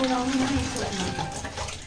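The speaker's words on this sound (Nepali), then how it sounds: "मेरो छोराले अब भाँडाकुँडा धुँदैछ हो" Running tap water splashes steadily over dishes being washed by a child in a home kitchen, a continuous close wash with a voice talking over it throughout.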